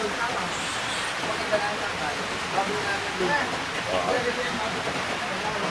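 Rain falls steadily as a dense, even hiss that never lets up, with voices faintly present beneath it.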